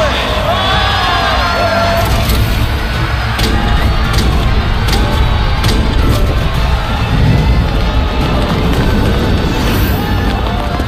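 A dense, loud crowd roar fills an animated arena as a team is welcomed in, sustained applause and cheering throughout with an announcer-like voice and other talk layered over it.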